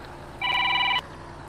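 A telephone rings once with a short, bright electronic trill that sits steady for about half a second, loud and clear over a quiet room background, with no talking.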